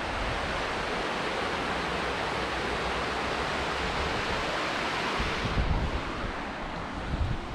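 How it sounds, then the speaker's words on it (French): A small waterfall in the Verdon gorges gives a steady, full rushing wash of water that holds at an even level throughout, with no voices. "Une petite cascade là-bas."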